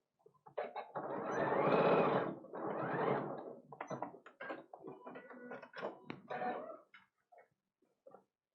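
A sewing machine stitches the two folded edges of a small fabric box, running in a few loud, sustained bursts close by with short pauses and lighter mechanical clicks between them.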